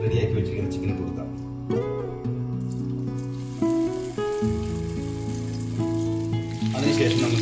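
Chicken pieces dropped into a hot pan with two tablespoons of oil, a loud sizzle and crackle that swells as the pieces go in, with stirring clatter and a voice talking over it.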